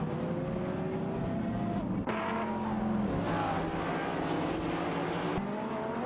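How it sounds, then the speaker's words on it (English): Race cars in a video game, a Mosler MT900 and a Lamborghini Murcielago SV, drone with loud engine noise that shifts pitch with gear changes and revs as they battle closely. "McRae Alive in the Mosler Mount 900 is locked in a tight battle with Bobardo and Super Lacroix in the Lamborghini Murcielago SV for 7th position."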